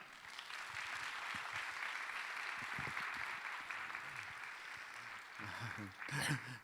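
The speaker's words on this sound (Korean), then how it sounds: "우리 나오실 때 따뜻한 환영의 박수 하겠습니다." A church congregation at a youth worship service claps in welcome as the senior pastor comes forward, a steady, fairly faint wash of applause filling the room, with a brief louder swell near the end.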